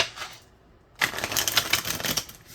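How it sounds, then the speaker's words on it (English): A deck of tarot cards being shuffled, a soft riffle at first, then a brief pause followed by a longer run of rapid, close papery flutters and taps. "we're going to redo that shuffle"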